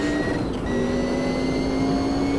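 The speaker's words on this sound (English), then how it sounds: "the transmission whine on the overrun sounds amazing" A high, steady mechanical whine rises and holds over a droning engine, a Group C race car's transmission whine on the overrun, from the racing game Automobilista 2.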